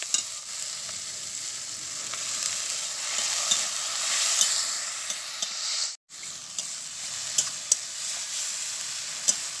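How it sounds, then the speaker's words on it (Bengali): Spice masala with ginger paste and chopped tomato frying in a pan with a little water, a steady close sizzle with faint clicks of stirring and one brief pause. "এবার আমি এর মধ্যে সামান্য একটু জল দিয়ে মশলাটাকে কষাতে থাকবো"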